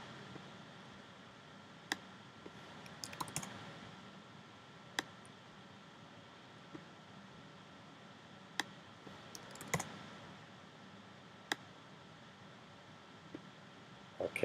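Sparse, isolated clicks of typing on a computer keyboard, a few keystrokes spread out with pauses between them, faint against a low steady room hiss.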